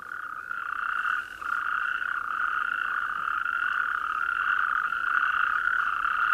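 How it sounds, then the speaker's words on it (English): A chorus of natterjack toads croaks at a waterhole in spring evening, a dense, steady, rattling trill from many animals blending into one continuous loud drone. "What are these toads saying to each other?"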